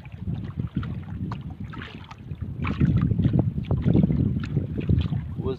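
Gusty wind buffets the microphone in rough, uneven bursts that grow stronger midway through and keep rumbling to the end.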